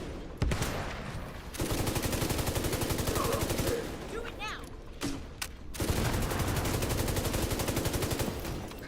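Sustained automatic gunfire from an L86 rifle in The Division, loud rapid bursts with a short pause before the shooting resumes, mixed with other distant game effects.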